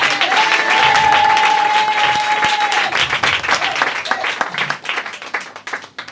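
A church congregation bursts into loud, sustained applause for the Lord. A voice calls out over it, and the clapping thins toward the end into scattered claps.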